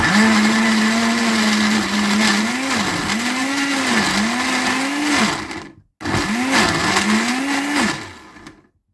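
A blender grinds cooked rice for kimchi seasoning loudly with a steady whining motor hum, cuts out briefly, starts again, then winds down to a stop.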